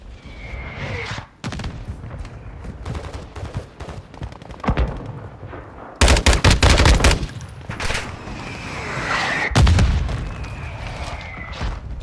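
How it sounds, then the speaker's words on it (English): Mortar fire and gunfire in the co-op shooter Modern Warfare II: loud bursts of shots and booming impacts, with heavy blasts around the middle and later, continuous and dense. "There's mortars in here, be careful."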